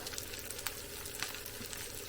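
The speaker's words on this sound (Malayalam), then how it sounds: "നമ്മുടെ മത്തി വറക്കാൻ വെച്ചിട്ട് വെന്ത് വറുത്തിട്ട് മൂത്ത് വന്നിട്ടുണ്ട്" Sardines frying in a pan give a steady close sizzle with light crackles and a few sharper pops, with no voices over it.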